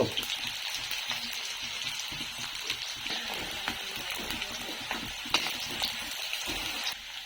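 Chopped onions sizzle steadily in hot oil in a pan, the start of a village-style chickpea stir-fry, a continuous close frying crackle with faint stirring and no talk.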